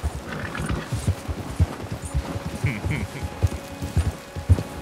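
A white horse in the video game Red Dead Redemption 2 walks with steady, close hoof clops and snorting breaths, over faint ambient background.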